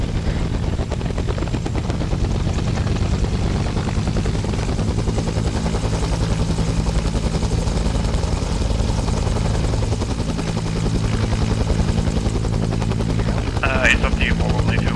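A helicopter in the video game Arma 3 drones with a heavy, continuous rotor thrum that stays loud and close throughout, while voices talk over it.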